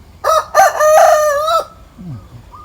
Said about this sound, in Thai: ผมมาแอบดูนก แบบดูไก่ขันอยู่บน ยอดต้นมะม่วงครับ